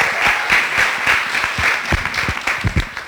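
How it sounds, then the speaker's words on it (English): Audience applause at a FuckUp Nights Beirut talk event, a steady wash of many hands clapping close and loud, with a few sharper individual claps standing out toward the end. "Round of applause."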